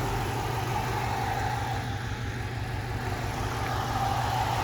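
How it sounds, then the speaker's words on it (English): A Subaru Forester engine idles after being repaired, still smoking off excess oil. A fairly quiet, steady low hum with a regular pulsing rhythm runs through the whole stretch, with no voices. "Car's running really good now."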